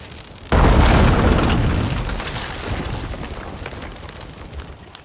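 A cannon in the game Fountain of Youth fires a cannonball with a single loud, sudden boom that slowly rumbles away over several seconds, with no voices.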